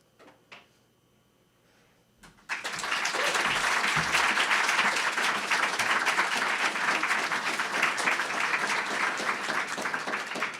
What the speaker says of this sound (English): How about keeping the applause going for the first round?